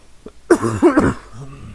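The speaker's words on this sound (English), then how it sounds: "I got a little bit of a cough." A single harsh cough followed by throat clearing, close and loud, with a short rasping tail.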